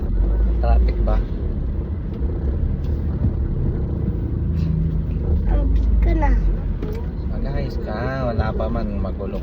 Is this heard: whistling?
no